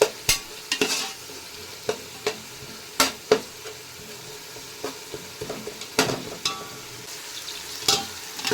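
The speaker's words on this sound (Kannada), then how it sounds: "ಇದರೊಳಗಿರೋ ಹಸಿ ವಾಸನೆ ಎಲ್ಲ ಹೋಗೋ ತನಕ ಚೆನ್ನಾಗಿ ಫ್ರೈ ಮಾಡ್ಕೊಳ್ಬೇಕು ನಾವು" Ginger garlic paste fries in oil for a biryani and is stirred with a spoon, giving a soft background sizzle broken by irregular scraping clinks against the pan.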